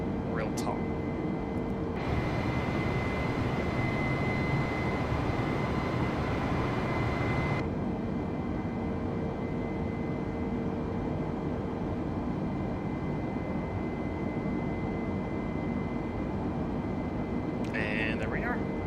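Airbus A320neo engine in Microsoft Flight Simulator during a climb, a steady broadband roar with a faint sustained whine, unbroken and even in loudness throughout.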